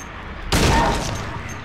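Single loud gunshot from a shotgun or rifle in the video game Silent Hill 2, a sharp blast with a short decaying tail after a quiet moment.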